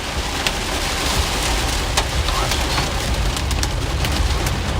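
Steady rain falls heavily during an Oklahoma tornado storm chase, a dense even hiss with scattered sharper drop hits close by, and no voices.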